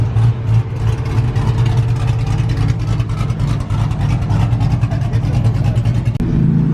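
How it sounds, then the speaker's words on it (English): At an underground car meet in Houston, a very loud truck engine rumbles with a deep, continuous low roar and sputtering exhaust, holding steady and close for several seconds. "Such a very loud truck."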